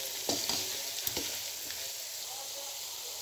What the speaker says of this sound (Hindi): एक मिनट मसाले पकाएं।